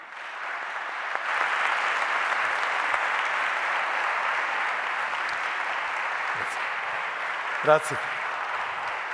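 An audience at a stage dialogue show gives a guest sustained, even applause that runs throughout, with a brief spoken word near the end.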